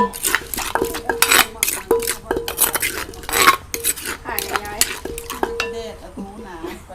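Palm sugar stirred in a metal pot to dissolve it, giving rapid, uneven clinks and scrapes of a utensil against the pot, close and fairly loud, with a brief faint voice near the end.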